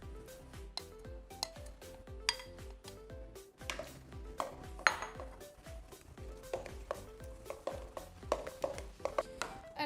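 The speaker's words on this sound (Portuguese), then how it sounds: "à medida que vamos adicionando os restantes ingredientes, vamos sempre mexendo" Egg yolks being stirred into a mixture in a bowl, a utensil clinking and tapping against the bowl in quick, irregular strokes, close and fairly loud, with no talk.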